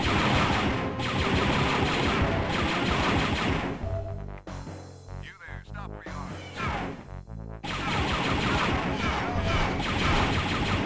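Turret gunfire in Star Wars: Dark Forces on PC comes in loud rapid bursts, with dense shots filling the first few seconds, a brief break, then more firing.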